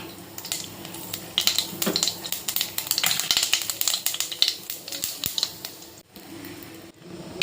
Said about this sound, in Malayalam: ഒരു പാനിൽ കുറച്ച് എണ്ണ ഒഴിക്കുക ഇനി കടുക് പൊട്ടിക്കാം